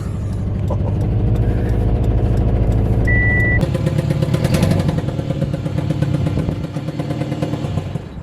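A Subaru Forester engine runs with its exhaust manifold disconnected, a loud, steady, rough rumble with constant mechanical clatter and a brief high whine partway through, close by and unbroken.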